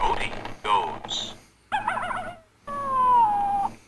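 A person mimics a coyote with a few warbling yips followed by a long, falling howl, loud and near, split by short pauses.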